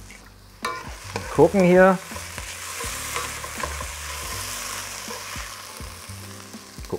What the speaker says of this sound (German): lasse die Pilze für ungefähr 1 bis 2 Minuten hier scharf mit anbraten